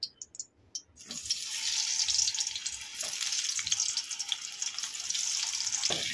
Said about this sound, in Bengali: তেলে একটু হালকা করে ভেজে নেব আলুটাকে।